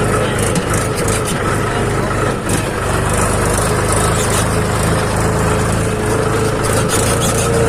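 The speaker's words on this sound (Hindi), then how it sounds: "ये महिंद्रा 275 नया मॉडल है।" A new-model Mahindra 275 tractor engine runs steadily throughout, a close, continuous mid-to-low rumble with a constant steady tone and no speech over it.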